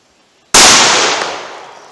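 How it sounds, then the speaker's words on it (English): A shotgun loaded with double-aught buckshot fires a single loud, sharp blast at 25 yards, the report ringing out and decaying slowly after a brief silent lead-in. "now here's the double-aught buckshot from 25 yards"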